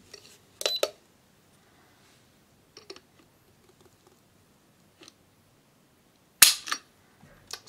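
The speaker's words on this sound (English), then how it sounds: "To check our pull, got our Lyman gauge, 5 pounds, 11 ounces." Dry-fire trigger pulls on a Kahr CM45 pistol, each a sharp close metallic snap, a few scattered clicks with a loud pair near the end, in an otherwise quiet room.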